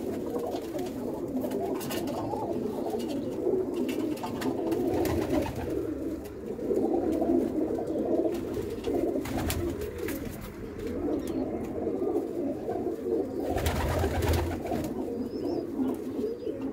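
Pigeons perched on rooftop planks on a Punjabi pigeon-keeping rooftop coo in a low, continuous murmur, with bursts of wing flaps or movement breaking through a steady background.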